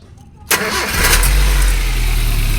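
A Suzuki APV engine, just after an oil change, cranks briefly and catches, then settles into a loud, steady idle close by.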